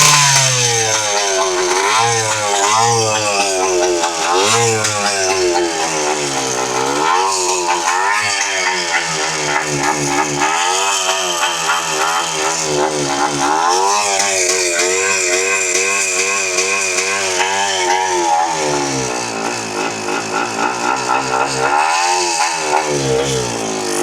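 Yamaha IT 250 barn-find dirt bike engine running close by, a loud raspy two-stroke drone with repeated revs rising and falling throughout, no talk over it.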